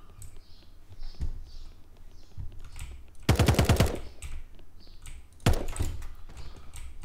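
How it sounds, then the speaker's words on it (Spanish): Gunfire in the shooter game Radical Heights: scattered single shots, then a rapid automatic burst and another sharp volley, moderately loud against quiet game ambience. "Aquí se están disparando también"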